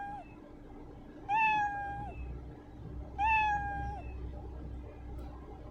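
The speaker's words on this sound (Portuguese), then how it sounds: "Vamos pedir pra ele esperar um segundinho entre cada miado." A cat meow sound effect played by a program repeats twice, about two seconds apart, each a clear rising-falling meow over a faint steady background hum.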